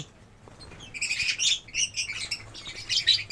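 Lovebirds in a breeding cage give repeated high, bright chirps in irregular bursts, close by and moderately loud, with a low steady hum beneath.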